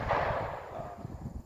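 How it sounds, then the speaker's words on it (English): Gunfire from other shooters at an outdoor shooting range, a sharp report that decays into a rumbling tail, followed by faint, irregular distant pops. "these guys they're shooting a lot"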